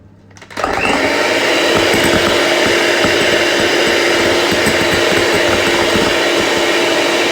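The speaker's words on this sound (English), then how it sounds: "whisking it until the egg whites form a stiff peak" Egg whites and sugar are whisked to stiff peaks, a loud, steady mechanical whirr that starts abruptly after a brief quiet moment and runs continuously and close, with no talking.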